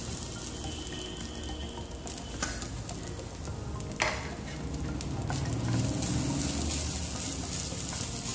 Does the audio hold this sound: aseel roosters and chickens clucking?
no